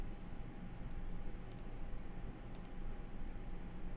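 Two brief pairs of sharp computer mouse clicks, about a second apart, over a steady low hum in a quiet room; the clicks are faint.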